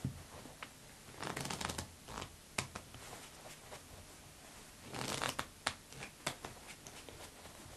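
Playing cards are shuffled twice, each time a close, quiet burst of riffling flutter. Between the shuffles come sharp taps of the deck being squared and light handling clicks, with no voices.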